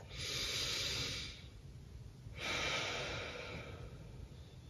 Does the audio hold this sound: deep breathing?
yes